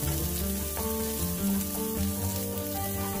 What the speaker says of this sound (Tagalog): Then, lalagay ko na yung sibuyas.